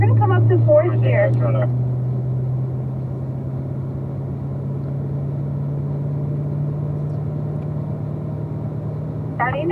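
A car engine accelerating while driving, a steady low drone that holds throughout, with a voice speaking briefly at the start and again at the end.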